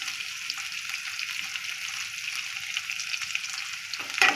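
Sliced onion frying in oil with ginger and garlic in a pan at home, a steady close sizzle that holds evenly throughout with a brief louder clatter at the end.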